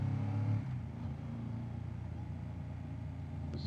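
A Yamaha Ténéré 1200 motorcycle on a descending road pulls out to overtake, its engine a steady mid-pitched drone that rises briefly at the start, then holds an even, moderately loud hum.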